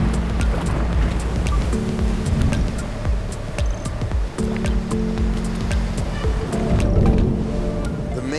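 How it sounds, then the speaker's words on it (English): Roaring whitewater rapids on the Caqueta River in the Colombian Amazon, a loud, continuous rush of churning water close by that surges and rumbles throughout with no talking. "one of the most difficult sections of whitewater on the run"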